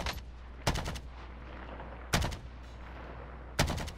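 A firearm in Call of Duty: Modern Warfare fired in three short rapid bursts spaced over a quiet low background hum, each burst loud and sharp with a brief tail.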